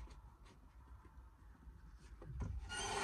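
A circular paper trimmer cutting card, a faint soft rubbing slide with a few small clicks, ending in a brighter scraping pass of the blade.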